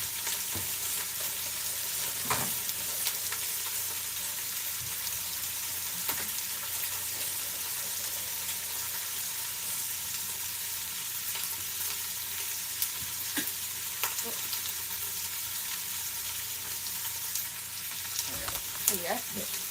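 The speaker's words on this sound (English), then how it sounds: "Just want to apply a sear to the correct ones here." Meat searing for Rogan Josh in a hot pan, a steady dense sizzle throughout, with occasional clinks and stirring scrapes rising briefly above the continuous frying.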